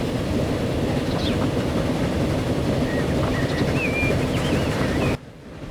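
Trains run in the Transport Fever game, a loud steady rumble of wheels and wind with faint squeals and whistling tones rising over it, cutting abruptly to quiet near the end.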